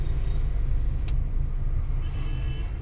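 A car driven during a driving lesson accelerates, its engine droning low and steady from inside the cabin, loud and continuous throughout, with no talking.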